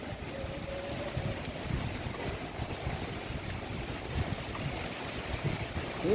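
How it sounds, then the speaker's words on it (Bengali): Strong storm wind from a Kalbaishakhi squall rushes and buffets past a balcony, a continuous roaring gust with low rumbling surges, fairly loud and steady with no speech. "ঝড়ের হাওয়া"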